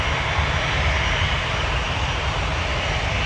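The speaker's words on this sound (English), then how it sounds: "We have Swoop 368 to Charlottetown. Lining up next on a 737-800." A Swoop Boeing 737-800 jet lines up on the runway at Toronto Pearson, its engines producing a loud, steady broadband roar with a deep rumble, close and unbroken throughout.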